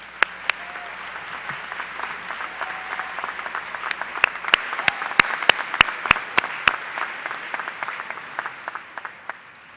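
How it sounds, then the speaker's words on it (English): Commencement audience applauding master's graduates, a crowd of clapping hands with crisp loud individual claps popping out, building to a dense middle and thinning toward the end. "Let's give our Masters of Students a round of applause."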